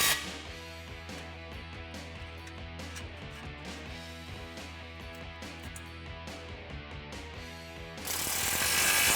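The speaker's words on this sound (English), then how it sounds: "tighten that down with your 15mm socket" A ratchet fitted with a 15mm socket tightens the exhaust clamp on a 2015–2017 Mustang V6 Roush axle-back, giving rapid, even pawl clicks in a continuous close stream, ending with a burst of louder broadband noise.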